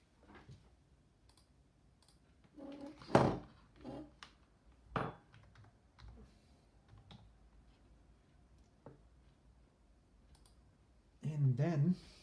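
Someone types on a computer keyboard in scattered bursts of close, sharp key clicks with pauses between them, and a short stretch of speech near the end.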